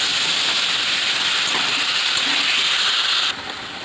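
Water added to a hot pan of frying oil with drumstick pieces and potatoes: a loud, continuous sizzling hiss of steam that drops off a little near the end.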